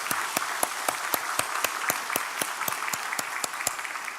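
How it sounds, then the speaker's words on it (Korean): A church congregation claps in unison, sharp evenly spaced claps about four per second over a dense wash of general applause. "더 큰 박수로 하나님께 영광을 드리겠습니다"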